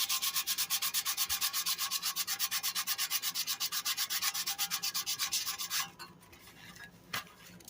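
Rough stamped steel shroud from an MTD lawn mower being sanded by hand, a steady rapid back-and-forth rasping stroke close up that runs loud and rhythmic for several seconds, then stops, leaving quieter scraping and one sharp knock.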